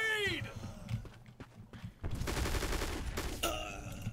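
Gunfire in the shooter Black Squad: scattered shots and a denser burst with a heavy blast, and a voice speaking in places.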